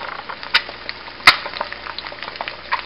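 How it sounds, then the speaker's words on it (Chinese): Two eggs frying in leftover oil in a pan, with a light crackling sizzle, scattered small pops and one sharper spattering burst close by, and no talk over it. "现在是煎鸡蛋"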